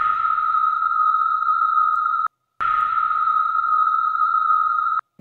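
A drum and bass percussion effects loop played without an LFO tool: a bright, sustained tonal synth layer that cuts off abruptly, restarts after a short gap, and stops again near the end, loud and alone.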